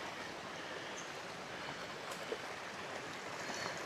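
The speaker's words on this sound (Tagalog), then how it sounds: "Maganda yung ilog ngayon, hindi kulay tsokolate." A river runs over a rocky bed, giving a faint, steady rushing wash of water that stays even throughout with no voices.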